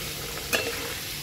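Large cut potato pieces, unsalted and without turmeric, fry in hot oil with a soft continuous sizzle. A single brief clink of a utensil sounds partway through, close and with no talking.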